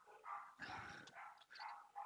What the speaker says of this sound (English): Sorry, dogs are barking in the background.